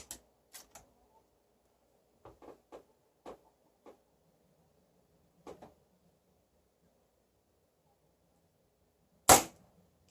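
A Diana Chaser air pistol fitted with a moderator fires a handful of soft, muted pops spaced across the first half, followed near the end by one much louder, sharp crack in otherwise quiet surroundings.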